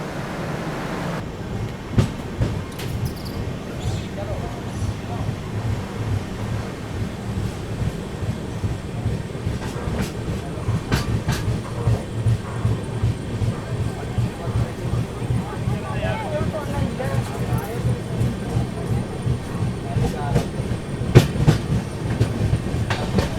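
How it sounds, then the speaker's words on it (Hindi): Kashi Vishwanath Express pulling out of Balamau Junction, wheels clattering in a steady clickety-clack rhythm that runs loud and continuous throughout, with wind rushing past the microphone and a voice talking over it. "निकल चुकी है अपनी ट्रेन जो है बालामऊ जंक्शन से"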